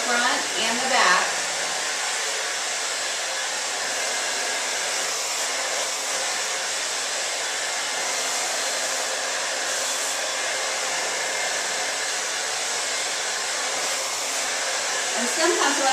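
A hair dryer blows steadily while hair is dried with a round brush, a loud, close, continuous whooshing hum that holds unbroken for the whole stretch with only slight shifts.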